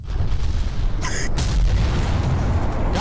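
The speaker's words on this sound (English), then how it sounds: "Let's explode that." A deep explosion booms as switches are blown up in a train-building video game, with a low rumbling roar under sharper crackling bursts partway through, loud and sustained for a few seconds.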